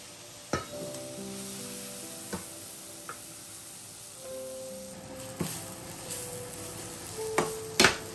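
Boiled noodles and vegetables stir-fried in a pan, a low steady sizzle under scattered clicks and sharp knocks of a utensil on the pan, close up with no voices.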